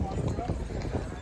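Horses clip-clop along a busy hill-station road in Kufri near Shimla, quick hoof knocks mixed into steady crowd chatter and voices nearby.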